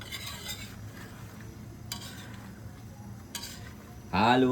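A spoon scrapes and clinks rhythmically in a pot of milky sopas soup, steady close stirring under a faint simmer, with a few sharper knocks and a voice cutting in at the end.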